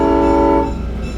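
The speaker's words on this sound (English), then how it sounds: "Dinner date on a moving train." A North Arkansas Railway dinner train at Eureka Springs sounds a loud, sustained horn-like tone that cuts off after about half a second, leaving a low rumble of the moving train.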